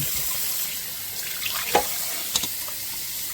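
Chicken pieces rinsed under a running kitchen tap, a faint steady stream of water with a few brief splashes and clinks, quiet and close.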